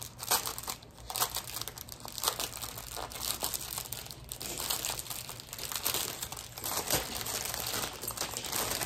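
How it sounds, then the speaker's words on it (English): Plastic baggies holding art supplies crinkle and rustle constantly as they are unpacked, dense, close and busy with bursts of sharper crackling throughout, alone with no talking. "Sorry for the crinkling."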